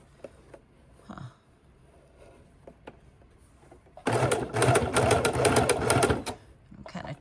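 A home sewing machine slowly stitches a fabric bowl cover around curves, a steady mechanical whirring burst that runs loud and close for about two seconds after quieter handling noises.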